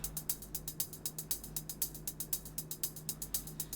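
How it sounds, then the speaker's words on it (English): A hi-hat drum loop ticks in a quick steady rhythm of crisp, bright hits, played alone and fairly quietly. "with the chords we have this hi-hat loop that I found"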